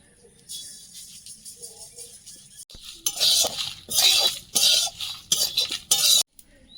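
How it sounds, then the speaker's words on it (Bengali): Cumin seeds and dried red chillies dry-roast in a wok while being stirred. Bursts of metallic scraping and clinking come and go near the mic after a quieter start. "এধারের কড়াইতে জিরে আর শুকনো লঙ্কা ভেজে শুকনো খোলায় গুঁড়ো করে নেবো"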